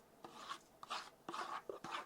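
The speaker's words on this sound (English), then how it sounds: "But I'm going to scrape this out" Spatula scraping banana cake batter from a mixing bowl in a home kitchen: four short, close rasping strokes with brief pauses between them.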